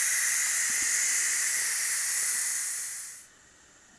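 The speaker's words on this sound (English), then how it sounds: "turn off the machine and also vent the steam out of there" Steady loud hiss of steam venting from a Ninja Foodi pressure cooker during pressure release, holding constant for about three seconds before cutting off abruptly into near silence.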